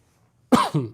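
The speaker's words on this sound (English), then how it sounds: "Sorry, guys, I'm coughing." Two sharp coughs in quick succession, close and loud, after a near-silent pause.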